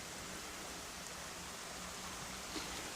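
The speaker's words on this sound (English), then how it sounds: "The water below, beautifully clear. It runs into the River Clyde, which is quite near." Clear water runs beneath a bridge on its way toward the nearby River Clyde, a steady, even rush of flowing water heard close and alone, with no voices over it.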